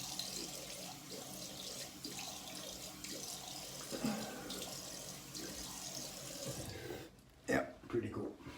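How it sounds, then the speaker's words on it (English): Water runs steadily from a sink tap while an 1850s Wade & Butcher wedge straight razor is rinsed free of alum, a continuous splashing hiss that cuts off near the end with a few short clunks. "Rinse off alum."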